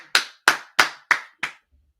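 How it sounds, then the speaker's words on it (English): Five sharp claps in a steady, slowing rhythm, loud and close, then silence. "Clap it up, clap it up, clap it up,"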